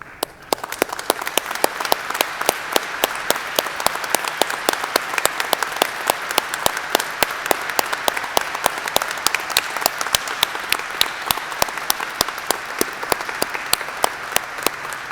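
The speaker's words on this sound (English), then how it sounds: "applause." A large audience at a spring college graduation ceremony gives a sustained round of applause for military veterans, dense steady clapping with occasional sharper claps, continuous and even for about fifteen seconds.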